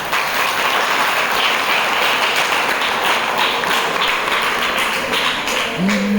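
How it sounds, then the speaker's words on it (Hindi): An audience applauds steadily at an Ayurveda product information gathering, a dense, loud wash of clapping that runs unbroken for several seconds, with a brief voice near the end. "तो मैं चाहूंगा इन लोगों के लिए जोरदार ताली हो जाए"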